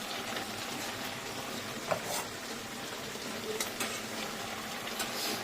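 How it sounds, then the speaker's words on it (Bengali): Fish and water go into a pot of cooking vegetables for a sour Bengali fish curry, giving a steady close sizzle and bubbling with a few soft clinks of stirring, and no voices. "মাছ আর জল একসাথেই দিয়ে দাও"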